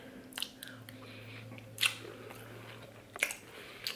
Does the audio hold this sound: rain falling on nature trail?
no